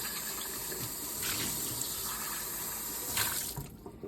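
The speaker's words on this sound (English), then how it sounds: "Rinse out my cup for later." Water runs from a kitchen tap while a cup is rinsed out in the sink, a steady near splash with a couple of brief louder surges as the stream strikes the cup, with no voices.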